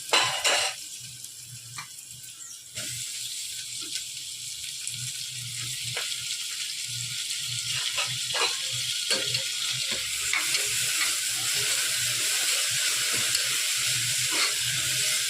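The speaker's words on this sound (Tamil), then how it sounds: "இந்த ஸ்டேஜில் இப்போ நம்ம தக்காளி போட்டுப்போம்" Chopped tomatoes tossed into a pan of well-sautéed onions, hissing and sizzling steadily while a spoon scrapes and clinks against the pan in an irregular stirring rhythm, growing louder toward the end.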